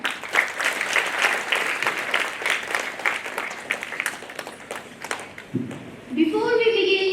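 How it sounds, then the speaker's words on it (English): Audience applause for students at a school annual presentation assembly, a dense steady clapping that fills the room for several seconds, joined near the end by a brief low musical tone. "please welcome our talented students with a big round of applause."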